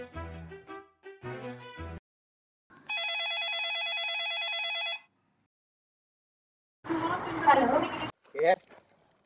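A telephone bell rings in one steady, electronic trill lasting about two seconds, set between stretches of people talking before and after.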